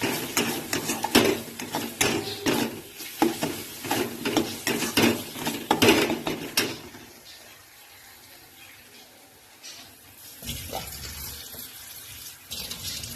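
Egg curry masala being stir-fried in a pan with a little water, giving dense scraping and sizzling stir strokes for about seven seconds, then a quieter simmer with occasional clinks.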